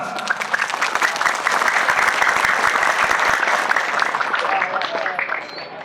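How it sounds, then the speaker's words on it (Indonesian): Students and guests at the 22nd anniversary celebration of an Islamic boarding school applaud, a loud, crisp burst of many clapping hands that swells and then slowly thins out. "Tepuk tangan semua."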